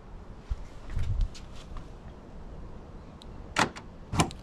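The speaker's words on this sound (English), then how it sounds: "I open the door." A Tesla Model 3 car door opens with two short, distinct clunks of the latch and release near the end, following a brief low thump, all at close range in a quiet setting.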